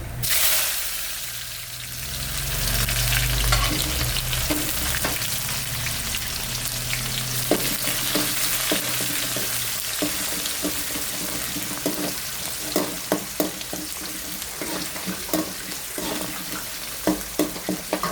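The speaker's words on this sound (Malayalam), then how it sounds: "ചറപറാന്ന് വെക്കുന്നുണ്ട്. ചെറിയുള്ളി ചെറുതായിട്ട് ഇങ്ങനെ അരിഞ്ഞെടുത്തത്," Finely chopped shallots sizzle loudly in hot oil in a pan, a steady crackling hiss that eases after several seconds into quieter frying broken by scattered clicks of stirring, with no talk.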